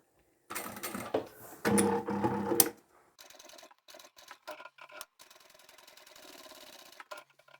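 A sewing machine stitches a zip onto a vinyl bag, sewing slowly over the bulky fabric join. A loud run of stitching stops, then comes back as shorter, quieter bursts with pauses between them, and no one talks.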